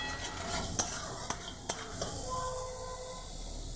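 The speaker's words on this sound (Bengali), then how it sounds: "মোচাটা দিয়ে নাড়িয়ে বেশ মজে আসবে মোচাটা" Chopped banana flower is stirred into fried spices in a pan, making a quiet, steady sizzle and hiss broken by a few sharp clinks of the spoon against the metal.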